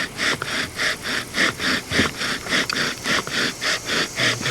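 Power drill spinning under heavy downward pressure in long sweeps, a steady grinding whir that swells and fades in a regular pulsing rhythm, loud and close with no talk.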